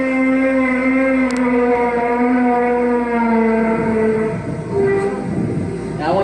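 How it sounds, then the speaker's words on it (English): Strange trumpet-like droning from the sky, a steady layered tone sliding slowly downward in pitch, loud and continuous throughout with a rising wail near the end. "They're described as sky noises,"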